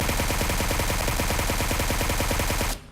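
Sustained automatic fire from a suppressed QBZ assault rifle in PUBG Mobile rattles out as a rapid, even stream of muffled shots for nearly three seconds before cutting off abruptly, loud and close with no talk.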